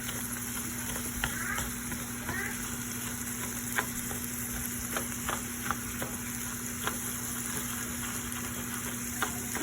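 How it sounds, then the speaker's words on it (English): Rice sautéing in olive oil in a pot, a steady close sizzle and fry with occasional soft stirring scrapes, continuous with no talk. "you're just gonna saute the rice for a minute"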